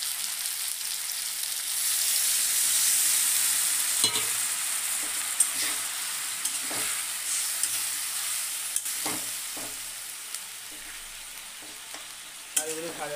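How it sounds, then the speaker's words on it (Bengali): Fish and potato curry sizzling loudly in a pan after water is added, a continuous bright hiss with scattered clinks and scrapes of stirring. "তো আমি এখানে একটু জল অ্যাড করে দেবো।"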